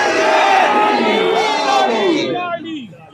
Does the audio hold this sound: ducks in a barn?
no